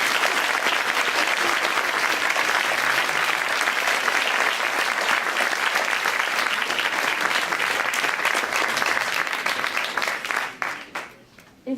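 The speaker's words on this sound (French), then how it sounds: "Veuillez applaudir chaleureusement, monsieur le procureur de la République, Luc Samir" An audience applauds to welcome a guest, a dense and loud wash of clapping from many hands that holds steady for about ten seconds and then thins out, with some voices faintly underneath.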